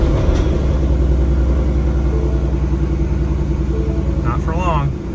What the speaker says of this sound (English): We'll go ahead, fire up the car now.